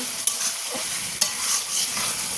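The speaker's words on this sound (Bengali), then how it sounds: "এখন একটু ভালো করে কষিয়ে নেব" Pigeon meat stirred and sautéed in a pan for a Bengali kosha, with steady sizzling and two sharp spatula knocks against the pan.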